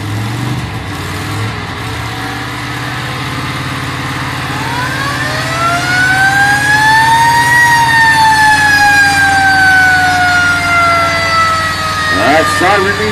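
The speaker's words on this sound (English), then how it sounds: "Siren means it's showtime at the Wall of Death." A wailing siren signalling a Wall of Death motorcycle show rises and falls in pitch over a steady engine rumble, loud and close, with a mechanical clatter near the end.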